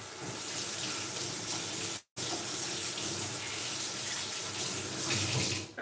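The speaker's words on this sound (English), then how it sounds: "I'm going to go rinse off my spoon." A kitchen faucet runs steadily as a spoon is rinsed under it, a loud continuous stream of water with one brief break near the middle and no talking.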